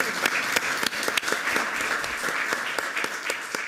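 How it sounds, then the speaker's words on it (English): Applause ripples through a city council meeting in Santa Ana, a steady crowd of hands clapping with distinct sharp claps standing out near the microphone, and a faint voice beneath. "Let's give that a round of applause."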